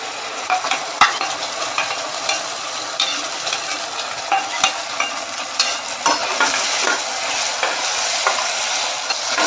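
A ginger paste of cashew, almond, melon seeds, cardamom, cinnamon and cloves frying in a pan for an egg dish, steady sizzling with irregular scraping stirs throughout, close up.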